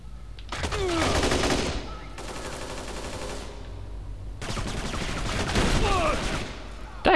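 Rapid bursts of gunfire in Kane and Lynch 2: Dog Days, a shotgun among them, come in three loud, dense volleys separated by short lulls with background game noise.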